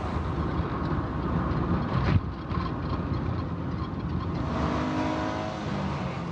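A police car chasing a speeding Ford Sierra at about 132 mph gives a steady, loud engine and road roar with wind rush, recorded from inside the car. A brief knock comes partway through.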